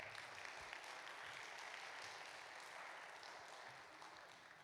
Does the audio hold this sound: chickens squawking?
no